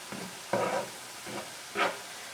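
Ground meat frying in a pan for spaghetti sauce, a soft steady sizzle with a few louder bursts as it is stirred, close and moderately quiet, no talking.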